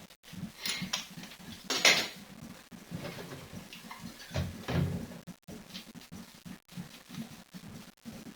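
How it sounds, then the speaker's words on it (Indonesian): Spoons clink and clatter against each other and dishware during dishwashing, a string of irregular, close metallic knocks and rattles with no speech. "Ini sekarang sendok-sendok."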